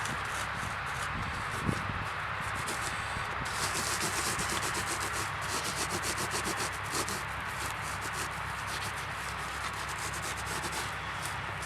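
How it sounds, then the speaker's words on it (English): Borax being rubbed by hand into a deer tail skin gives a steady, close, soft gritty scrubbing with faint rustles and an occasional small knock. "get every part of skin that you see covered in borax. And rub everything into it that you can."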